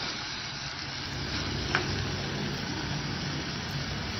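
Minced chicken kheema is sautéed in a little oil, producing a continuous, even sizzle and frying hiss heard close up, with one faint stirring click and no voices.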